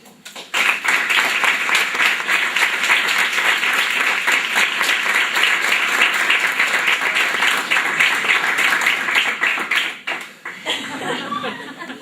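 Loud, sustained applause from a lecture audience after a talk in Spanish, dense steady clapping that runs about ten seconds and then thins out near the end.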